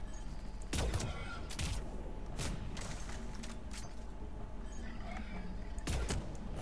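Gunfire breaks out in a Mass Effect 3 battle on Tuchanka, a few sharp shots standing out over a steady hum of background ambience and distant combat noise.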